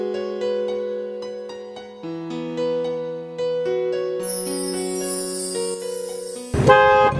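A car horn honks repeatedly at a cyclist, sounding as a series of steady sustained tones that shift in pitch, loud and close, ending in a sharp burst of noise.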